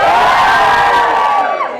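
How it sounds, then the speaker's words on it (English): A crowd of girls at a daytime youth tech expo for International Day of the Girl Child screams and cheers loudly for nearly two seconds, a dense high-pitched roar that fades out at the end. "Give me a bit of a scream."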